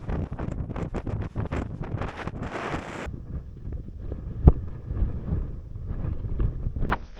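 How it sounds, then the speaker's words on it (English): Strong wind gusting across an exposed coastal lookout at Cape Split on the Bay of Fundy, a steady broadband rush buffeting the microphone with sharp rumbling bursts early on, easing to a lower roar with occasional gust hits later. "It's super windy here, but beautiful."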